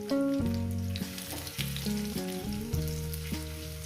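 Sweet corn pakora batter frying in a pan with a steady, soft sizzle running under louder background music for the whole stretch.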